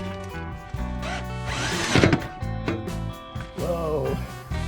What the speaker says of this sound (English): Just need to bolt down the propshaft center support bearing.